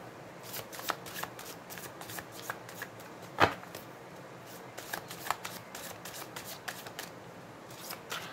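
Tarot cards are shuffled by hand in quick, soft riffling bursts with a sharper snap midway, close and fairly quiet with no talking.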